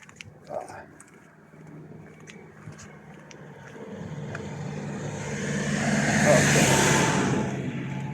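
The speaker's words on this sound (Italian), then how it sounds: "Arriva la macchina, ci spostiamo perché sono in piena curva." A car approaches along a road on a bend in Val Bognanco, its engine noise rising steadily from faint to loud and broad as it draws near, with some outdoor background sounds early on.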